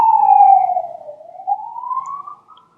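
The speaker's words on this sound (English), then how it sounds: "Sorry, I'm waiting for that siren to pass." A siren wails past, its tone sliding down then rising again, loud at first and fading toward the end with no other sounds.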